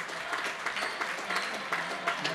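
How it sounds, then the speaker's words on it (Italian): Basketball crowd applause in an indoor arena, a steady dense patter of many hands clapping at moderate level, continuous through the short stretch. "gli applausi"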